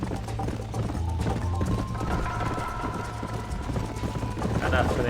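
Horse hooves clip-clopping at a steady trot in Red Dead Redemption, a dense, constant patter mixed with game ambience and a low hum, with a voice talking over it.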